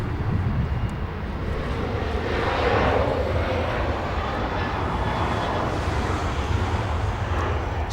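An Air France jet departs Los Angeles International Airport, a continuous broad engine roar that swells slightly and holds steady, loud and unbroken with no voices.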